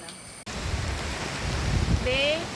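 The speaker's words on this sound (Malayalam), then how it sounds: "ഇപ്പം മഴ പെയ്തുകൊണ്ടിരിക്കുകയാണ്" Rain falling on the way to a waterfall in the hills, a steady broadband hiss after a brief quieter start, with a faint tonal whine near the end.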